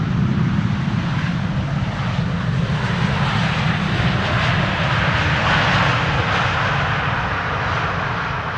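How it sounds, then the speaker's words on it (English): American Airlines airliner landing at Amsterdam Schiphol Airport, a loud sustained engine roar with broad rumble and a steady whooshing wash that holds throughout, close and dominant, with no voices. "American Airlines, flight 204 from Philadelphia, having landed."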